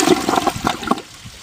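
An American Standard Champion 4 toilet flushing granola bar wrappers and paper, a loud close rush of swirling water that drops away abruptly after about a second.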